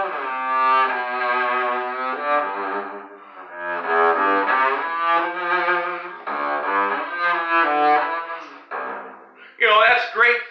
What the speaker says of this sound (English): you wiggle it like that, and you get this nice classical sound like this.